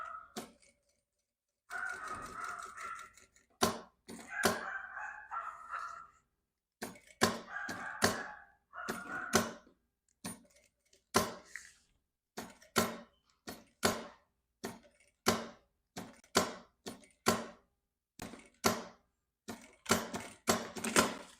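A sewing machine backstitches back and forth while sewing a fabric box pouch with a teddy-bear appliqué. It makes a series of short, sharp mechanical bursts at an irregular rhythm, fairly faint and close, with brief pauses between runs.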